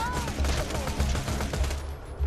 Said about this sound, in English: Oh, it's an assault rifle.